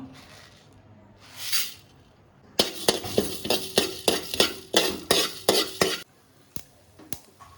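Fenugreek and coriander seeds are dry-roasted in a pan, with a quick run of rhythmic metal scraping and clinking as they are stirred, then a few isolated taps after a quieter start, with no talking.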